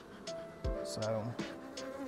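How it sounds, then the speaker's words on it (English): Honeybees buzz and drone close by at a hive entrance in western North Carolina during the sourwood nectar flow, several wings humming at once, while a voice speaks briefly over them. "There's a lot of bees hanging out here at the entrance too."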